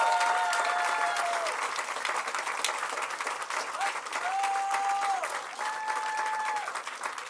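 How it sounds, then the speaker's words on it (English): An audience at a Boulder city press conference applauding city staff: sustained clapping from a sizable crowd fills the clip, fairly loud and steady, while a voice speaks faintly over it. "Please give our staff a round of applause."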